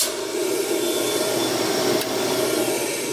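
Vacuum system drawing air through its hose and piping, a steady broadband rushing roar with a faint whine, constant and close for a few seconds with no talk.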